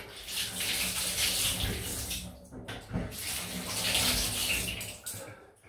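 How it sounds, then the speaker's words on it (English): Tap water runs steadily at a bathroom sink for rinsing during a shave with a double-edge safety razor and Proraso Green soap, a close, continuous hiss that briefly dips around midway before flowing strongly again. "that's all it needs, a bit of running water"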